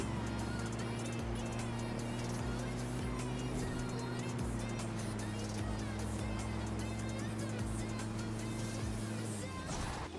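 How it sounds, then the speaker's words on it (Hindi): A car in the mobile battle game PUBG Mobile Lite drives with a steady droning engine hum that runs throughout, loud and continuous, dropping in pitch near the end, with clicky game effects layered over it. "मैं सीधा गाड़ी उठाता हूँ और पुश कर देता हूँ बंदे को ऊपर"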